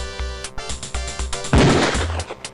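Loud gunshots echo across a police shooting range in Police Quest 4, with a Beretta pistol in use: several spaced reports, then a heavier crashing burst midway, then more shots.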